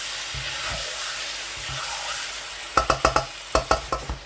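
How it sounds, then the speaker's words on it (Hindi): Urad lentils for maash dal fry in a pan with a soft, continuous sizzle. Near the end, a spoon strikes and scrapes the pan in two quick bursts of rhythmic knocks, with no speech. "तकरीबन 10 मिनट तक दाल को भूनूंगा"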